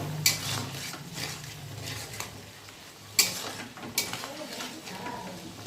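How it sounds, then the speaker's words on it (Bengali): A spoon clanks and scrapes in a pan as salt, turmeric and sugar are stirred into sizzling masala for a fish curry, with a few sharp metallic knocks over a soft fry. "এবার ভালো করে সব মিশিয়ে দেব"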